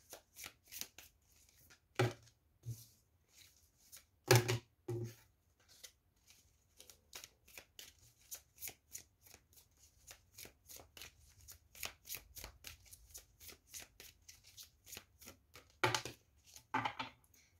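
Tarot cards are shuffled in a quiet room as a run of crisp riffling snaps and soft slides, with bursts that grow denser and louder toward the end.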